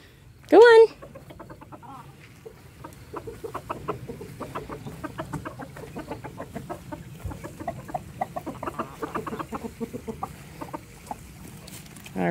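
A flock of chickens clucks continuously around a small rooster, with one sharp squawk near the start and soft scratching and movement behind the calls.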